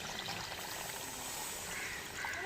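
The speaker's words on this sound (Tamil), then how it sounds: "தேவையான தண்ணி சேர்த்துக்குருவோங்க." Water pours steadily into a pot of egg curry with coconut, a continuous splashing trickle that stays even throughout with no talking.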